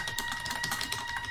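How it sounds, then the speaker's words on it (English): Loud, rapid typing on a computer keyboard, a dense run of sharp clicking keystrokes close to the microphone with no pauses and no speech. "I got that loud typing"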